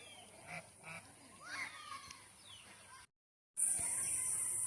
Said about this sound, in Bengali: এরা এখন নদীর থেকে বিকালবেলা বাড়ি যাচ্ছে, রাজাহাঁসগুলো